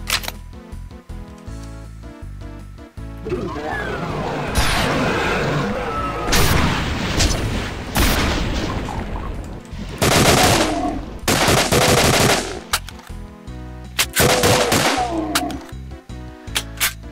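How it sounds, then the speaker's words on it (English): Pistol fire in the Doom video game, with repeated loud gunshot bursts and booming blasts across a long stretch of game action, some shots in quick succession and others spaced apart. "The pistol seems to be brutal."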